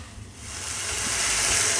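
Red amaranth greens with shrimp fry in a hot pan with a steady sizzling hiss that swells and grows louder as the mix is stirred, heard close up with no voices.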